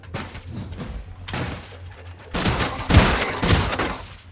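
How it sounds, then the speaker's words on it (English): Bursts of gunfire in the survival game Scrap Mechanic, rapid shots and thumping blasts including a shotgun, fairly loud and dense, with heavier volleys toward the end. "they're not shooting at the building, they're shooting at me"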